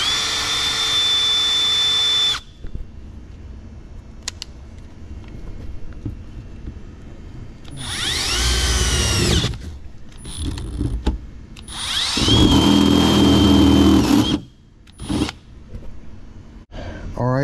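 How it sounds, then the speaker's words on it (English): A power drill whirs in short bursts, loud and close, drilling a small hole in HVAC ductwork, separated by quiet pauses with some rustling and handling noise. "First, you got to drill you a little hole"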